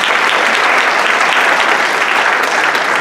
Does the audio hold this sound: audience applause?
yes